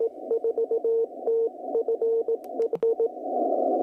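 Morse code CW tones play through the speaker of an Icom 7300 ham radio, a steady mid-pitched sidetone keying out short and long beeps over a constant bed of hiss, clear and close with no voices.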